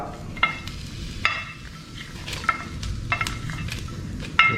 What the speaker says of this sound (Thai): เราก็จะคั่วเครื่องเทศของเรานี่นะครับ ให้หอมก่อนเลยนะฮะท่านผู้ชม